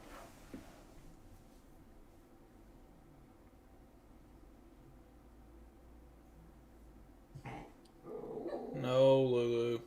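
A dog barks and yips loudly near the end after a long stretch of quiet room tone with faint clicks, several close, sharp, rising barks in a quick burst.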